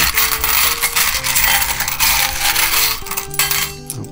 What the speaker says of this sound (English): you get the spectator to take a small handful of coins from the barrel.